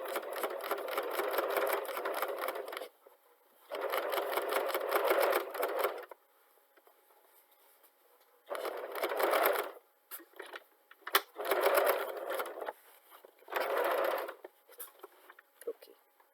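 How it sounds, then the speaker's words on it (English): A sewing machine stitches pieced fabric for a patchwork handbag in repeated bursts of rapid mechanical whirring, each a few seconds long, separated by quiet pauses, close and clear. "you sew back and forth until you come up with the desired look"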